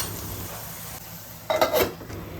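Sev tameta sabji masala of tomatoes and spices is stirred and sautéed in a pan, a soft steady sizzle with a brief burst of spoon scraping and clinking against the pan near the end.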